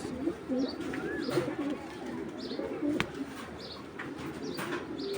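Racing pigeons cooing nearby in a loft, soft low repeated coos with occasional faint chirps over a quiet background hum, no talking.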